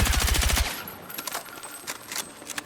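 Rapid automatic gunfire in the video game Battlefield 6 rattles off in a fast, even burst lasting under a second, then gives way to scattered fainter shots and clicks.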